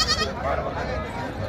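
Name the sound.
goats bleating at a goat market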